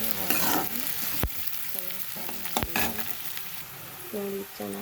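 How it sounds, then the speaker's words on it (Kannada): Onions frying in hot oil for a tamarind-like gojju, a steady sizzle with occasional sharp scraping clicks of a spoon in the pan, close and continuous with no talk. "ಈಗ ನೋಡಿ ಎಣ್ಣೆ ಕಾದಿದೆ ಅದು ನೋಡಿ ಈರುಳ್ಳಿ ಹಾಕಿದ್ದೀನಿ"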